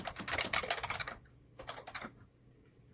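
Python code is typed on a computer keyboard in two quick bursts of close, clattering keystrokes separated by a brief pause.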